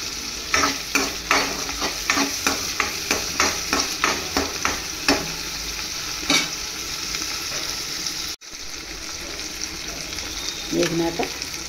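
Curry leaves fry in oil for a fish curry. Up close, quick rhythmic stirring strokes scrape the pan over a continuous sizzle, then the sizzle runs on more quietly after a brief cut, with no one speaking.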